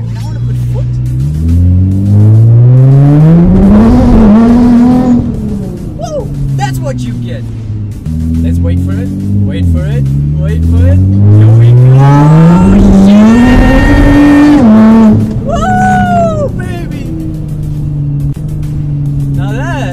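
A 600-horsepower Nissan GT-R with a straight-pipe exhaust pulls hard at full boost, its loud engine note climbing through two long rising sweeps with a gear-change dip between, raw and close, with a person talking over it.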